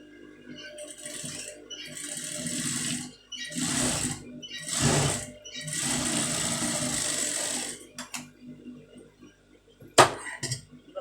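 Sewing machine stitching a fabric front neck piece for a tailored garment, running in several bursts of rapid whirring separated by short pauses, with a few small clicks near the end, close by and with no talking.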